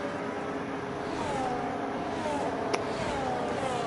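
A Ferrari Formula 1 car in the F1 racing game drones at a steady, fairly loud pitch as it passes, with a rising engine whine over continuous track noise and a short sharp click near the end.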